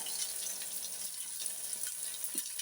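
Sliced onion goes into a pan of frying shallots, producing a steady, bright sizzle and hiss that carries evenly throughout, close by with no talking.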